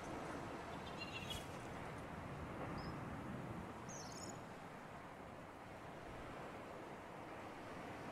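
Ocean waves and surf in the Subnautica game's Safe Shallows, a steady, soft broadband wash with wind, faint and continuous throughout.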